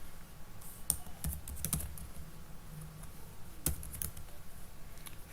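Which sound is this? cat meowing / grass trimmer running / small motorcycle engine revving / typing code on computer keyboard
typing code on computer keyboard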